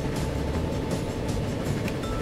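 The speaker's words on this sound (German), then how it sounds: "Dann klicken wir den Zug nochmal an." Train running in the railway simulation game Transport Fever, a steady loud rumbling roll with faint rail clatter, continuous and alone throughout.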